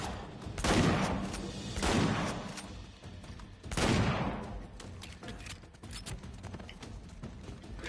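Gunfire in Uncharted 4: A Thief's End on Crushing difficulty comes as three loud, rolling bursts spaced a second or two apart. A lower, steady battle rumble fills the gaps, and no one speaks.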